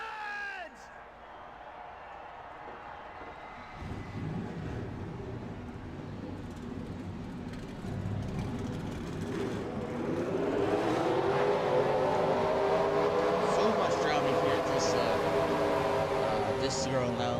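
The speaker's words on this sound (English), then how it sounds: "Drivers, start your engines!" Race car engines starting in the NASCAR Racing 2003 video game: after a voice, a low rumble rises and builds into a loud, swelling chorus of droning engines under crowd noise, with talk continuing over it.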